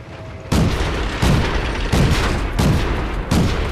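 Tank cannons firing in World of Tanks: five heavy, loud booms in an even rhythm roughly every 0.7 seconds, each with a short rumbling tail and no voices over them.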